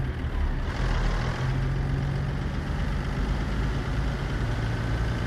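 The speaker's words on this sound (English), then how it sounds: "I do like hearing the engine too." Peterbilt 362 truck engine idling in American Truck Simulator, a steady low, throbbing hum that holds evenly throughout at moderate loudness with no talk over it.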